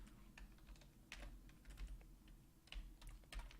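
Typing on a computer keyboard, close and fairly quiet, with irregular bursts of key clicks and short pauses between them, no voices present.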